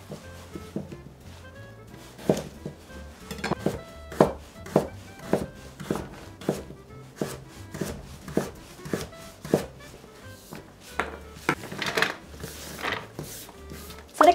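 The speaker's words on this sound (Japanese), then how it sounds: "人参もいちょう切りにしていきます。" A kitchen knife cuts a small carrot into quarter-rounds on a cutting board for nursery-school rice porridge, a steady series of close, crisp thuds about two per second.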